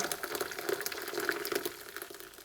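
Boiling water pours steadily over almonds in a small pot, a continuous splashing, gurgling stream heard up close for the whole stretch, with no voices.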